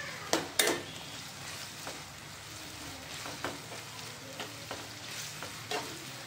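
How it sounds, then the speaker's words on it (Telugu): Onions fry for chicken biryani with a steady sizzle, while a spoon stirs and scrapes the pan in irregular close knocks and clacks, with no talk. "ఈ ఆనియన్స్ అనేటి ఫ్రై చేసుకుంటూ ఇలా మిక్స్ చేసుకుంటూనే ఉండాలండి"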